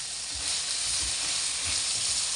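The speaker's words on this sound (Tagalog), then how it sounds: "So, kalabasa muna tayo. Gisa-gisa muna natin yan." Kalabasa squash being sautéed in a pan for pinakbet gives a steady, close sizzle and hiss that runs throughout, with a few soft low stirring knocks and no talking.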